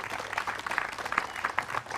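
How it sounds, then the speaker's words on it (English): Applause from an outdoor Juneteenth gathering at the John Brown Tannery in Meadville, Pennsylvania: steady, moderately quiet clapping from a crowd, with individual claps standing out faintly over a soft, even wash. "Can we get another round of applause?"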